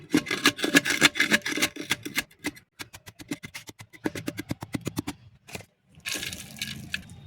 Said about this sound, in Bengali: বন্ধুরা, এই চারকোলটাকে এখন একটু টাইট করে দেবো।